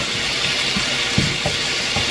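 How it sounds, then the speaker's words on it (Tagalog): Water poured into a pan of stir-fried ingredients while cooking pancit canton, a steady close hiss and splash of liquid that continues throughout with faint clinks underneath. "Lagyan natin ng tubig pampalambot sa ating pansahog."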